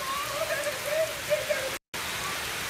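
Steady rain falls outdoors at an athletic event, a dense broadband hiss of drops hitting the ground that runs throughout and breaks off for a brief moment, with faint voices beneath it.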